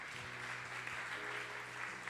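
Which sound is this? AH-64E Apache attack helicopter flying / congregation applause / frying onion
congregation applause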